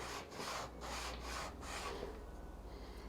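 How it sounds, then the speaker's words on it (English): A fondant letter cutter rubbed back and forth against a cutting board, giving soft, repeated scraping strokes in a steady rhythm, close and quiet. "So I'm going to press it all the way down and I'm going to start to rub it against the board."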